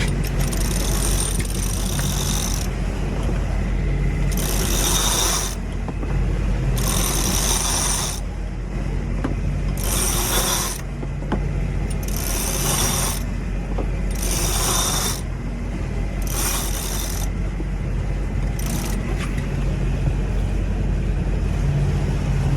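A sailboat winch ratchets in repeated bursts, about seven spaced clicking runs as the jib line is pulled out, close and loud over steady wind and engine rumble while sailing from Gosport to Cowes in December.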